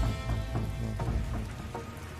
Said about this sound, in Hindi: बारिश में हम तो पूरी तरह से भीग गए।